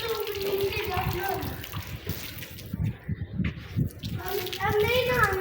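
Water runs and splashes steadily from a tap while small children play, their voices chattering and calling throughout over the continuous rush.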